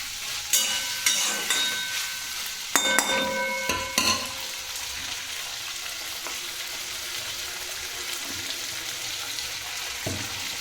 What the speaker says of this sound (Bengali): দেখতে পাচ্ছি আমি সব দিয়ে দিয়েছি, ভেজে নরম করে নেবো নুন দিয়ে।